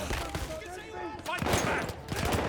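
Gunfire in Battlefield 1 crackles in rapid bursts of shots amid a busy battle din, with voices shouting and talking over it.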